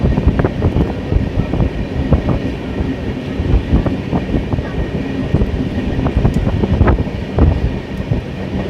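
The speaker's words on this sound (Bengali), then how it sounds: "আর এই পথে কিন্তু এই ট্রেন খুবই আস্তে চলে" A train running slowly on the Hasimara line, a steady close rumble of wheels and carriages with rhythmic clatter and wind buffeting throughout, without speech.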